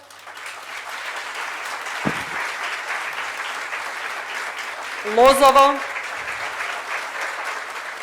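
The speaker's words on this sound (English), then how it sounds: "I would like to recognize the families from each of the communities that were involved in this training with an applause." An audience applauds host families at a Peace Corps Macedonia training event, with steady, fairly distant clapping running throughout while a speaker reads out names over it.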